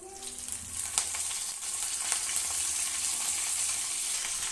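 Tempering spices and curry leaves hitting hot oil, a dense continuous sizzle that starts with a burst of crackles and settles into steady frying hiss, close and without talking.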